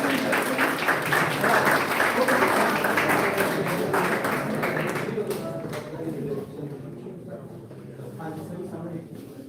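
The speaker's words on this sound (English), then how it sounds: "Please give them a big round of applause." An audience at a college seminar breaks into dense applause, loud for several seconds before thinning out, with voices murmuring as the clapping dies down.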